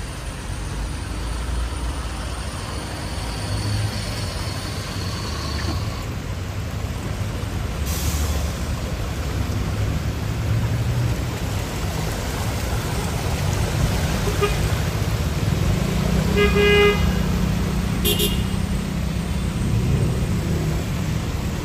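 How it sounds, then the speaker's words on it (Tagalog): Heavy traffic rumbles continuously along Roxas Boulevard in Manila after rain, with trucks and cars idling and crawling nearby, occasional honks and air-brake hisses breaking through the steady low drone. "Sobrang traffic kasi dun sa main road ng Rojas Boulevard."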